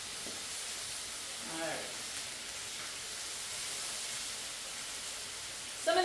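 Chicken sizzles on a Blackstone griddle with a steady, even hiss that fills the whole stretch. A voice speaks briefly near the end.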